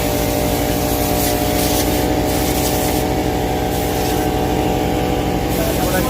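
A mechanic cleans a stripped, fully dismantled classic rally car in the Tour Auto 2023 parc fermé with a compressed-air blower, a loud continuous hissing rush over a steady mechanical hum that never lets up.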